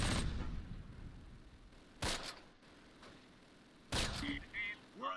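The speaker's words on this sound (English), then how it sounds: "We're under heavy fire." Heavy gunfire in the Close Combat World War II strategy game, with several sharp loud bursts of shots and booms spaced a few seconds apart over a low background rumble.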